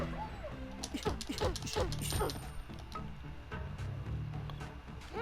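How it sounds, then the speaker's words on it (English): Attack dogs in the video game Raging Justice bark and whimper amid busy game action, short yips and barks repeating over constant background noise and effects. "their attack dogs will come every now and then"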